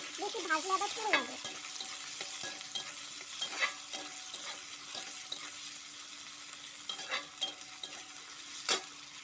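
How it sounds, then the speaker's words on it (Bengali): Green chilies lightly stirred in a pan as they fry, with a faint continuous sizzle and a few soft scrapes and clicks of the utensil spaced through it, after a brief higher squeak near the start. "হালকা সামান্য নাড়াচাড়া করব। বেশি ভাজলে আবার পুড়ে যাবে।"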